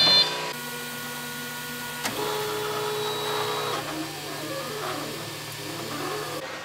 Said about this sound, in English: We have to wait for the 3D printing anyway